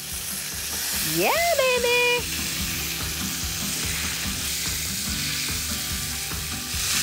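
A salmon fillet sears in a hot pan just after being flipped, giving a loud, continuous sizzle close by, while a voice briefly exclaims over it near the start.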